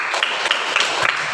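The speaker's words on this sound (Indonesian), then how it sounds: "tepuk tangan dulu temannya" Schoolchildren in a classroom applaud a classmate with a short burst of quick, close clapping, dense and even throughout.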